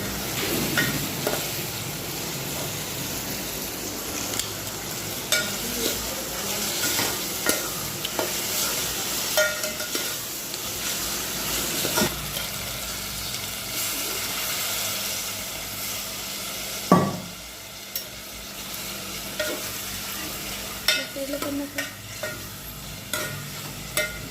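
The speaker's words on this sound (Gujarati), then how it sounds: "શાક વઘારે છે અને મરચું નખાઈ ગયું છે." Vegetables tempered with chili sizzle in a hot pan: a steady broadband hiss of frying with occasional stirring scrapes and clinks, close and fairly loud, with no talking.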